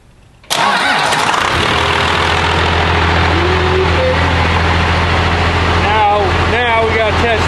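A first-generation truck engine cranks with the ignition switch, fires and settles into a steady, loud idle right up close, with its fuel shutoff solenoid wired through a new relay.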